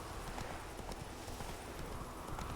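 Roach the horse's hooves clip-clop steadily in The Witcher video game, a continuous close trotting rhythm over a dense background of game ambience.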